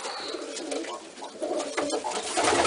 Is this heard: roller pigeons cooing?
yes